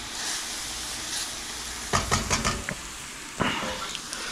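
Cuban picadillo fries in a hot pan with a steady sizzle, broken by scraping, clattering stirs around the middle and another brief scrape near the end, close and with no talking.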